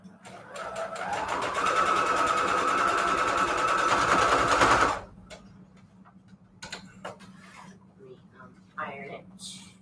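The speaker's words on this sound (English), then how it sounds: "Let's sew this together." A sewing machine stitches fabric scraps together in one steady, close run of about five seconds, then stops, leaving light handling clicks and soft rustling against a low hum.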